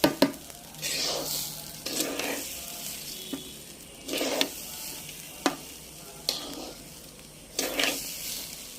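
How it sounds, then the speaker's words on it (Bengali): Polao rice frying with salt in a pan for beef biryani, a steady sizzle broken by repeated bursts of stirring and scraping, close and fairly loud, no voices. "আমরা পোলাও চালটাকে একটু ভেজে নিব, লবণ দিয়ে দিলাম।"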